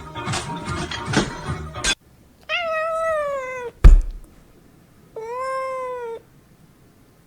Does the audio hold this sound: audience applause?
no